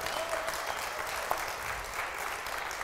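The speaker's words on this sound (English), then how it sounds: "I just want you to applaud them for leading us through the Red Sea to this moment." A church congregation applauds in steady, dense clapping that stays even for a few seconds, with a faint voice briefly audible underneath.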